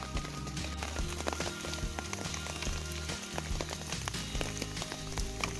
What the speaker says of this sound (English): Whoops, rain dripping in there.